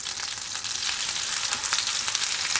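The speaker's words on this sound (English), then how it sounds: "And we are just going to saute our pieces." Lobster tail and claw pieces sauté in hot butter and olive oil, giving a steady, dense sizzle and crackle that stays loud and close the whole time with no voices.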